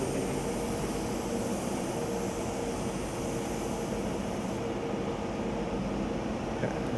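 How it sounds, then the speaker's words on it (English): An airplane passes overhead outside an ENT hospital operating room during a rhinoplasty, giving a steady broadband drone that stays even in level for several seconds, with no speech. "Yeah, that's a plane."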